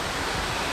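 A waterfall in Springbrook National Park pours into a small domed lagoon, producing a steady, full-bodied rushing roar with no breaks, loud and close.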